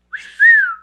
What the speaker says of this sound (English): start whistling every 5 seconds